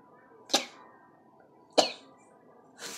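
Three abrupt nasal bursts, close and fairly loud, spaced about a second apart, like a person sneezing or stifling sneezes in a quiet room.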